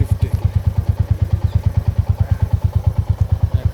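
A Royal Enfield Classic 350 BS6 motorcycle idles close by, its single-cylinder engine thumping in a fast, steady, evenly spaced beat throughout, loud and alone with no voices.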